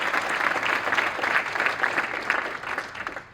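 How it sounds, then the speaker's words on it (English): An audience applauds steadily, a dense wash of many hands clapping that holds level for several seconds and then tapers off slightly at the end. "People should give Dan a round of applause"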